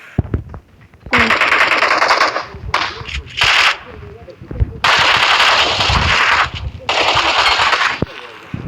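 Rapid automatic gunfire from a favourite weapon in a video game, fired in several long loud bursts separated by short pauses, with voices talking in between.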